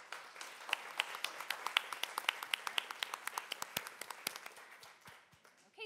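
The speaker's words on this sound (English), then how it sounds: "another big round of applause for our distinguished panel" An audience claps for a distinguished panel at a university funding forum: a moderate round of individual, fairly distinct claps at a brisk irregular rhythm, fading out toward the end.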